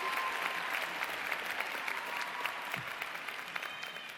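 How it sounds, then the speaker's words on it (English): Steady applause from an audience at a college communication convocation ceremony, a dense unbroken clatter of many hands clapping that runs evenly throughout with a slight fade near the end. "Let's give them a great round of applause for being Senior Fellows"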